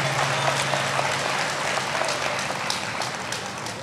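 Steady applause from an audience at a Black History program, continuous and fairly loud with no break, a dense wash of clapping hands filling the whole stretch.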